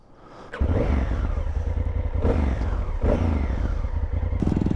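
A Kawasaki Z125 motorcycle engine drones steadily on a group ride near Cheddar in the UK, a close, loud, continuous hum with slight rises in revs and wind rush, no voices.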